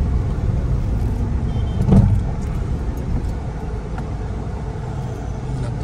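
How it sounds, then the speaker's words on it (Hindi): A car being driven into a servicing centre: steady loud low engine and road rumble throughout, with a brief surge near the middle, no talk. "गाड़ी को अभी अंदर घुस दे रहा हूँ।"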